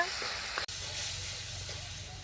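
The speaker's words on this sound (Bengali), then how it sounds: "মশলাটা খুব ভালোভাবে কষিয়ে নিছি" Turmeric, cumin and chilli powder with salt and ginger paste sizzle steadily in hot oil, a continuous close hiss broken by one brief clatter early on.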